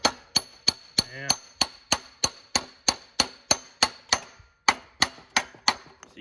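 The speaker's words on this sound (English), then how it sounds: "hold on to this with vice grips while I hammer" Sharp metallic hammer blows on the crankshaft of an old push mower engine gripped in vice grips, struck in a steady rhythm of about seventeen ringing clangs, close and clear with a brief pause near the end.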